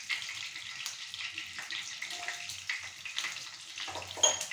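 Green chillies fry in a pan over lowered heat, giving a faint, continuous, soft sizzle with light crackling and no talk.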